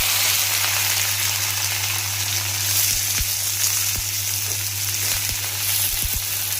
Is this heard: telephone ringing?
no